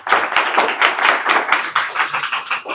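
Students in a classroom clap together for a correct answer, a brisk run of loud, rhythmic hand claps close by, with no talk over them.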